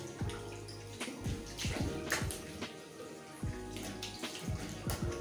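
Water runs steadily from a tap to rinse alum off a freshly shaved face, with close splashing and repeated cupped-hand splashes interrupting the flow at an irregular rhythm.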